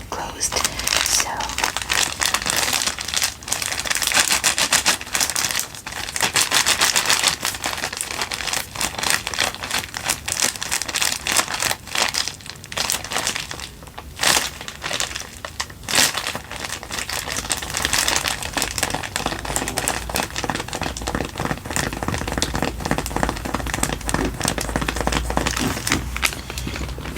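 A thin plastic emergency raincoat from a Japanese emergency kit is handled up close, crinkling and rustling continuously with sharp crackles and brief pauses, while a soft whispering voice talks underneath.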